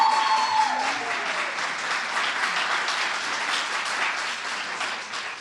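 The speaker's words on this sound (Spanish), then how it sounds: "Aplauso." Audience applause at an art history lecture on contemporary painting, a steady dense clapping from a crowd that holds evenly for several seconds and tapers slightly at the end.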